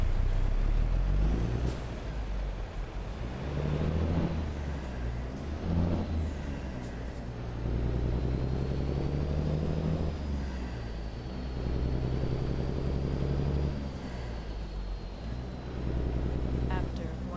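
Simulated Cummins N14 diesel in a Jon Rudas 389 truck mod for American Truck Simulator, a steady low rumbling drone that swells and eases through gear changes over about seventeen seconds, with a faint high whine above and some speech-like sound at times.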